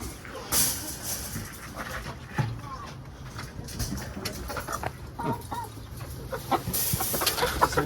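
Chickens cluck and squawk close by in short bursts, with rustling and shuffling noises and some background chatter.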